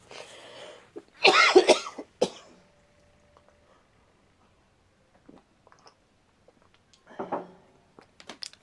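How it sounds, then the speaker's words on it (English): A person with a cold coughs several times in quick bursts, then goes quiet, followed by another short cough near the end; close and fairly loud. "you'll have to excuse the coughing."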